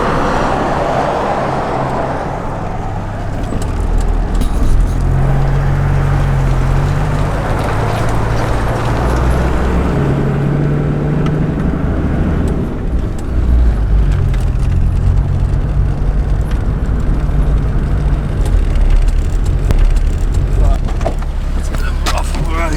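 Car towing a 24 foot caravan along a highway toward a warehouse, a steady close road and engine rumble with continuous wind and tyre noise throughout.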